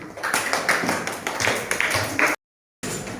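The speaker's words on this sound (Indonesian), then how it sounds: "Tepuk tangan untuk semua ya, Nak." A classroom of children claps together in a quick, uneven stream of hand claps, then cuts to brief silence and a return of room noise.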